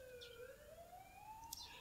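Ambulance siren in the game The Coma: Cutting Class, rising wailing tones sweeping upward over a background hum, with a faint chirp near the end.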